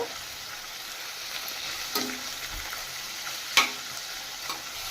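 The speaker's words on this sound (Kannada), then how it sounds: "ಇದನ್ನು ಮೊದಲು ಎಣ್ಣೆಯಲ್ಲಿ ಚೆನ್ನಾಗಿ ಫ್ರೈ ಮಾಡ್ಕೋಬೇಕು." Capsicum frying in oil in a pan, a steady low sizzle that continues throughout with a few light stirring scrapes and one sharper clink near the end.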